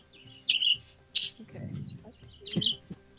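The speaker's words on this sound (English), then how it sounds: "the birds are also going robotic" Birds chirp in short, bright bursts spaced apart, with a low muffled voice or rumble between calls.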